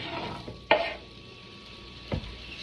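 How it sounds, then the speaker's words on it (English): Food pan-fries in butter with a soft sizzle, broken by two sharp stirring or scraping knocks, close and fairly quiet, with no voices. "just gonna pan fry it in butter"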